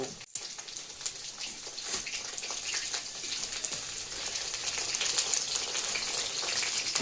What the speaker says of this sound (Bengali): সেদ্ধ করার পরে তারপরে ভাজা করছি এখানে। এই দেখো ফ্রাই মোমো, ফ্রাই মোমো।